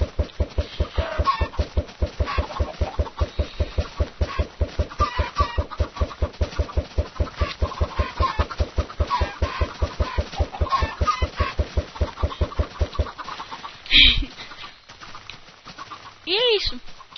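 Chickens clucking in the video game AdventureCraft, soft clucks under a steady rapid ticking rhythm throughout, with a person talking over much of it.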